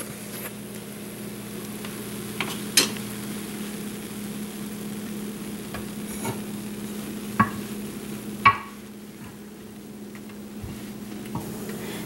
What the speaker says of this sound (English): So you're letting the bake cook for about 3 minutes.